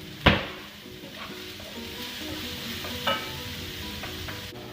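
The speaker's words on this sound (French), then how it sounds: "Maintenant que mon oignon est coupé, puis que mon poêlon est chaud, on va commencer par les sauter." Chopped onion sautéing in olive oil in a hot skillet, a steady close sizzle with two sharp bursts as pieces hit or are stirred with a wooden spoon, no talking.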